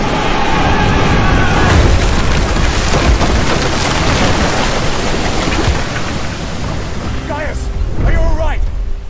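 Enemy pirate ship ramming a vessel in the game Expeditions Rome: a loud, sustained crashing rumble of wood and impact, with voices shouting near the end.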